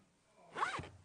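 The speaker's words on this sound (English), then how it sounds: "The zip is super sturdy." A zip pulled along a sturdy Crafter's Companion craft storage case, one short close rasping run that rises and fades, heard alone with no talk.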